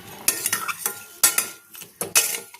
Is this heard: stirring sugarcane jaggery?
yes